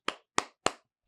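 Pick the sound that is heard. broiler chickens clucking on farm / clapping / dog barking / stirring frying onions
clapping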